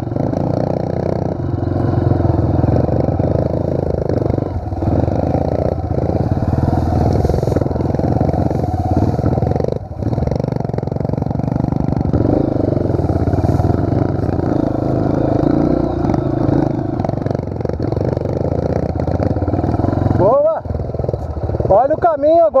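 A Pro Tork TR100F mini motorcycle ridden on a dirt trail, its small engine droning loud and steady throughout, with a voice talking over it and a brief rev change near the end.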